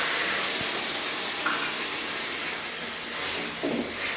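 A little water poured into a hot cooking pan while making lunch gives off a steady, fairly loud hiss of steam that lasts the whole time, with no voices.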